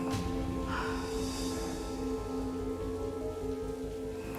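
Steady rain falls during a power outage at night, a continuous soft hiss of drops filling the scene at moderate level, with no voices heard.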